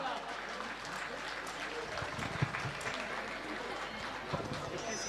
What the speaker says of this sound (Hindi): दोस्तों तालियां बजाइए, तालियां बजाने में कोई पैसा नहीं लगता है।